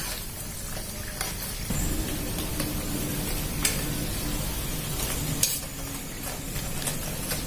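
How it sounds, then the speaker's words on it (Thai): Fish-filled dumplings deep-fry in hot oil until golden and crisp on both sides, giving a steady, fairly loud sizzle and bubble broken by occasional sharp crackles and utensil clicks. "เมื่อเราทอดเกี๊ยวปลาเนี่ยจนเหลืองกรอบทั้งสองฝั่งนะคะ"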